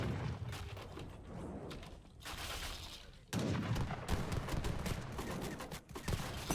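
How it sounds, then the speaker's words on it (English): Organ guns in a strategy game fire on buildings in a dense, continuous barrage of rapid gunfire crackles and booms, with a brief lull midway before the volley resumes loud and sustained. "Organ guns continue to do damage to the buildings."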